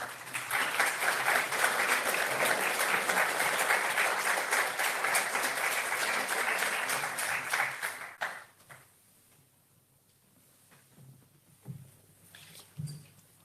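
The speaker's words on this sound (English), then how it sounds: "Et nous pouvons l'applaudir en effet." An audience at a film screening and testimony event on Nagorno Karabakh applauds loudly and steadily for about eight seconds, then the clapping cuts off into a quiet room with a few faint thumps.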